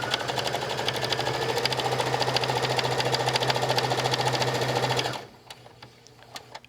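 A sewing machine runs steadily for about five seconds, stitching along the edge of fabric for a cross-body bag with a half-inch seam allowance. It stops abruptly, leaving a quiet room.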